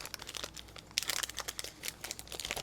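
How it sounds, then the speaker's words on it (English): A cat rustles and crinkles plastic wrapping from trading card packs nearby, a busy stream of crackling crinkles with sharper bursts, moderately loud and without talk. "And if you hear rustling, that's just the cat enjoying the plastic."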